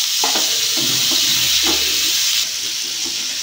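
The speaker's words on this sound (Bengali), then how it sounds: "পেঁয়াজটা ভাজা হোক ভালো করে।" Chopped onion frying in mustard oil with cumin seeds, a steady hiss of sizzling with a few soft scraping stirs early on, close and fairly loud, settling into plain hissing.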